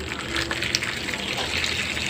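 Hot water poured onto a salted t-shirt for dyeing, a continuous close gushing splash of liquid lasting a couple of seconds with no voices.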